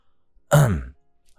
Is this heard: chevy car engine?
no